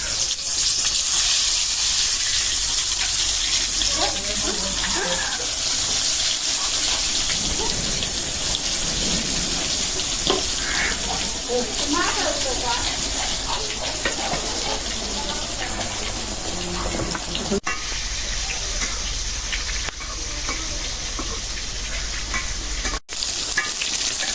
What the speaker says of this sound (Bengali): এখন দিয়ে দেই বেগুন ভাজার জন্য